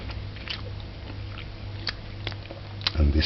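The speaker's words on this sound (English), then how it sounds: "Let's chew it" Chewing curried river shrimp with the shells still on, close crunchy bites and soft chewing clicks scattered across a few seconds, with a louder crunch at the end over faint background hum.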